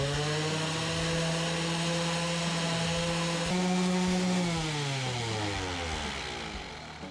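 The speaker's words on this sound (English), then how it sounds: "Okay, so that's been a couple minutes with the sander" An electric sander runs steadily on a plastic cutting board, giving a loud sustained motor drone whose pitch dips and shifts as pressure changes, then tails off slightly near the end, with no talking.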